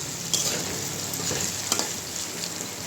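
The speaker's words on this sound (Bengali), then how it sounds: "তো বেগুন ভাজিটা হতে থাকে দিক দিয়ে, আর আলু ভাজিটা হতেও সময় লাগবে" Eggplant and potato slices fry in hot oil in a pan, a close, steady sizzle with occasional scraping stirs and small spatters.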